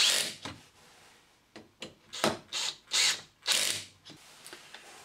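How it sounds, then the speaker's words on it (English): Power tool driving a socket to tighten the bolts on an Aladdin EasyFit isolator fitted to a live water pipe, heard as several short, close whirring bursts of a few seconds each with brief pauses between them. "So I'll now ensure these are tight."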